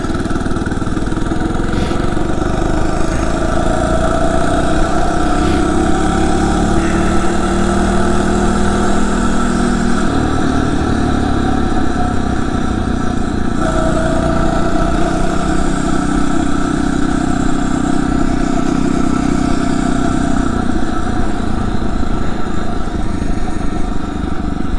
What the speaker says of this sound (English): it sounds like the engine's trying to shut off on me.